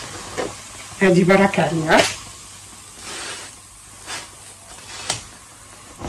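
Mkhamer dough fries on a hot oiled pan with a low, steady sizzling hiss. Someone speaks briefly over it near the start, then the frying continues quietly on its own.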